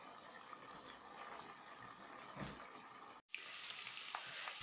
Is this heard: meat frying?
yes